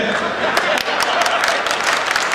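Audience at a Hindi comedy poetry gathering claps steadily, a dense wash of hand claps that stays fairly loud and even from start to finish.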